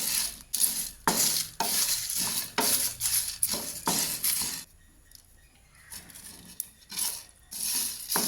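A spice masala is dry roasted in a pan and stirred, producing bursts of gritty scraping and rattling in rhythmic strokes, close and fairly loud, with a quieter pause midway and no talk.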